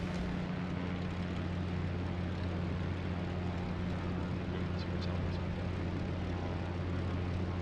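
A Pitts biplane's propeller engine in MSFS2020 flying over northern Canada, a steady loud drone with a strong low hum that holds unchanged throughout, with faint voice underneath.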